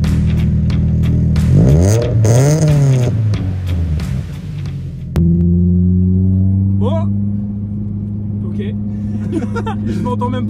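Subaru BRZ Stage 2 Rocket Bunny car engine revving and accelerating hard from inside the cabin, a loud rising then falling drone that drops and picks up again steadily, with people talking over it.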